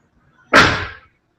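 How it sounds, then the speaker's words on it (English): A car door fitted with a new rubber seal shuts in a single loud, solid slam, with a short decay and no other sound around it. "You'll hear a difference in the door too when it shuts with the rubber on it."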